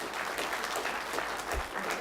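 Applause at a county board of commissioners meeting, a brief burst of steady clapping from the room, fairly close and even throughout.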